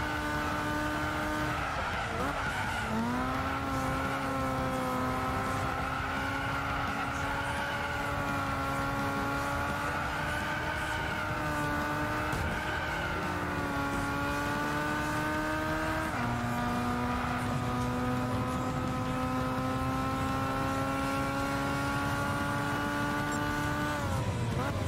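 Toyota Sprinter Trueno AE86 in Gran Turismo 6 racing a 400 PP Clubman Cup, its engine droning steadily with harmonic pitch climbing and dropping through gear changes, tires skidding at points, loud and continuous for the whole stretch.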